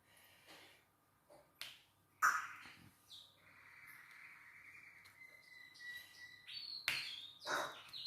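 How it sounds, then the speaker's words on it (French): Small pet birds chirp and trill intermittently in a quiet room, with a few sharp clicks and taps scattered around the song. "vous entendez mes oiseaux chanter"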